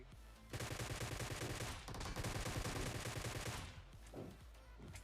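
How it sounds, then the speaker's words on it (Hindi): A Groza assault rifle in the mobile battle-royale game PUBG Mobile fires on full auto, a dense, continuous rattle of rapid shots lasting several seconds with one brief pause, followed by a few scattered bursts. "ये बोर्ड के बीच में ऑटो फायर देने लग गया था।"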